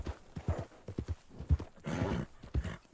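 A horse gallops hard in the Red Dead Redemption 2 video game, rapid rhythmic hoofbeats pounding close and clear, with a brief snort or whinny and tack rattle, no talking over it.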